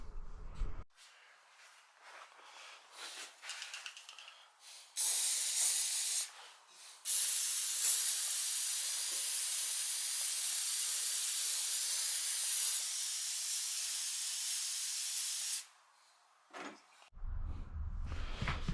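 CRC Sensor Clean mass airflow sensor cleaner spraying from an aerosol can in a long loud continuous hiss, preceded by a few shorter bursts and ending abruptly, close and alone.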